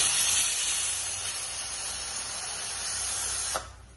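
Steam hisses steadily from a pressure cooker whistle weight while garlic rice porridge cooks. The loud, close, continuous release stops abruptly near the end and leaves near silence. No one speaks.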